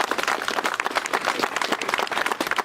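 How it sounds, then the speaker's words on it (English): A modest crowd gives a brief round of applause for volunteer board members at a gathering in Drayton Valley, Alberta, with clearly separate claps in a quick, uneven patter that stays at a fairly steady level. "could we just have a round of applause for them very quickly?"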